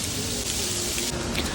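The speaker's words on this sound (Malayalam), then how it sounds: "കുറച്ച് കഴിഞ്ഞപ്പോഴേക്കും നല്ല മഴയായിരുന്നു." Heavy rain pouring down outdoors, a dense continuous hiss of falling water that stays loud and even throughout, with no voices.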